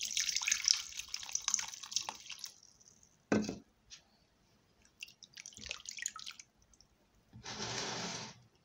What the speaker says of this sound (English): For us to prepare this, we need to wash the cucumber.